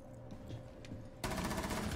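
Rapid automatic gunfire from the tactical shooter Rainbow Six Siege, starting as faint distant bursts and then breaking into loud, dense, continuous close-range shooting after about a second.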